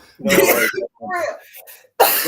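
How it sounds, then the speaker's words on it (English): Several harsh, close coughs in quick succession, loud and raspy, with brief gaps between them. "Y'all gotta talk before I cough myself out."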